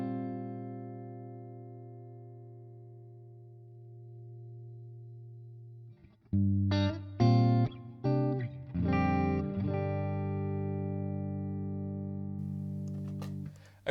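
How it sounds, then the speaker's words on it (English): A sustained electric guitar chord through a plate reverb effect on an FM9 rings out with a long reverb tail, then a series of sharp plucked notes and chords, each blooming into a wash. "We're going to stick in a plate reverb."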